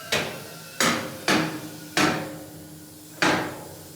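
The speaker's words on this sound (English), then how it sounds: "that sound you heard was the locks going up" Safety locks on a Handy Sam 1200 motorcycle lift clack into place as it rises: five sharp, close metallic knocks at uneven intervals, each ringing briefly before fading.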